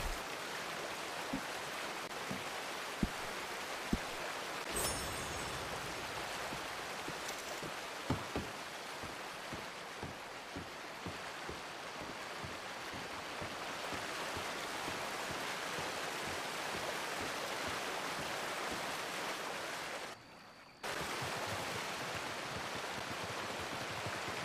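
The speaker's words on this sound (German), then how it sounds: "Da ist doch dieser kleine Fluss." A small river flowing in Red Dead Online, a continuous soft rushing and babbling of water with scattered faint ticks and knocks, steady and moderately close, briefly dipping near the end.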